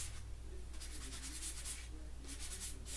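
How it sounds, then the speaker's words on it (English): A sanding sponge rubs across a wooden tray in soft, steady scratchy strokes, a few passes with short pauses between, quiet and close with no talk. "it's a sponge, it's a sanding sponge"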